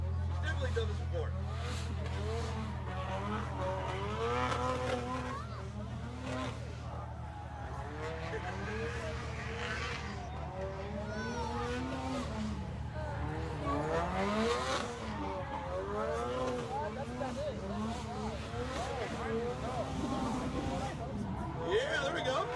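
Former pro drift car driven by Kelsey Rawlings at a motorsport festival, engine wailing through repeated rising and falling revs with tire squeal over a long run, heard beneath continuous commentator talk.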